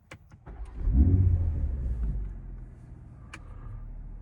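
A 2022 BMW M240i pulls away as a low engine and exhaust rumble swells after a few faint clicks, peaks close and loud, then settles into a steady, softer drone.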